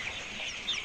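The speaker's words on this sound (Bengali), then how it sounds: "দেখেন আমাদের মুরগিগুলো কীভাবে খাবার খায়" Farm chickens cluck softly while eating, a faint, close cluster of short calls over a brief moment, with no talk.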